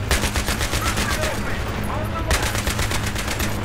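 Rapid automatic gunfire in Battlefield 3, a dense, continuous rattle of shots at close range with a short gap partway through, while a voice talks over the shooting.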